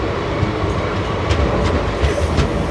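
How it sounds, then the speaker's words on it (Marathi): Prerna Express passenger train on its run between Nagpur and Akola, wheels clattering over rail joints in a steady rhythmic clickety-clack with a continuous low rumble heard from inside the coach. "ट्रेन ट्रॅकचा आवाज बघा मित्रांनो किती छान येतो आहे."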